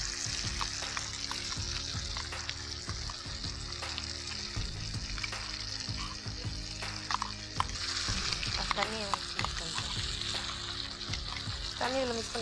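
Ground paste frying with bell pepper (capsicum) in a pan for a bell pepper gravy, a steady sizzle throughout with scraping stir strokes, while voices talk over it now and then.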